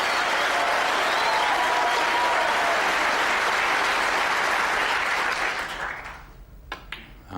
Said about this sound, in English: There'll be a bit of a cheer after this one.